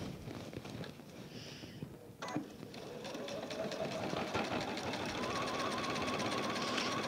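A sewing machine top stitches William Morris tapestry fabric, starting with a brief hesitant burst, pausing, then settling into a continuous, building hum of rapid stitching close by.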